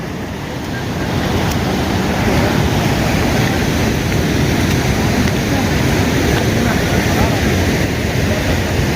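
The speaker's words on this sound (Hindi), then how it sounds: "पानी की आवाज़ सुन सकते हो आप, बहुत तेज़ आवाज़ है और बहुत तेज़ प्रेशर है" Loud, continuous roar of fast, high-pressure mountain river water on the trek from Sonprayag to Kedarnath, a dense broadband rush heard close and steady throughout without speech.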